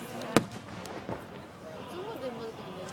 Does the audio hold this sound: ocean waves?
no